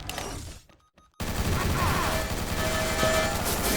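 After a brief near-silent gap, a sustained burst of rapid gunfire from a Sabre Shark gun in the game XSHOT erupts and continues densely to the end.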